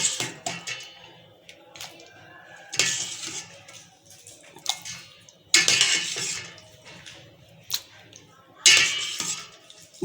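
Kathiawari chole being spooned out of a cooking pot, with sparse metallic clinks and scrapes of a utensil against the pot in short bursts, separated by quieter pauses.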